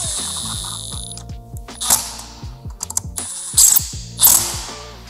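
Ratchet wrench snugging hex flange head bolts on R35 ignition coils fitted to a JZ engine, loud close clicking in quick repeated bursts with metallic pawl ticks and short pauses between strokes.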